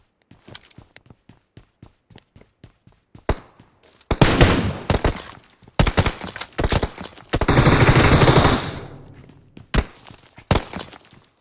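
Gunfire in the PUBG Mobile video game during a ranked match: a run of sharp single shots, then heavier bursts and a sustained automatic volley, fairly close, ending in scattered shots.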